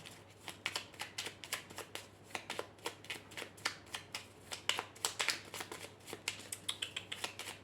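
Mirror-hours oracle cards being shuffled by hand, a quick run of crisp riffling and flicking taps in a steady rhythm, close and fairly quiet with a faint low hum beneath.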